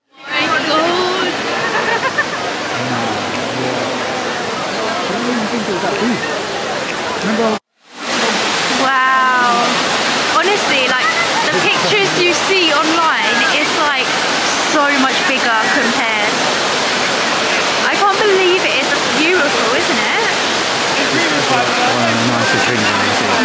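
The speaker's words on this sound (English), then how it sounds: "Trevi fountain up close and personal." Water of the Trevi fountain in Rome splashing and rushing steadily up close, a loud continuous wash with a brief dropout, with voices talking faintly over it.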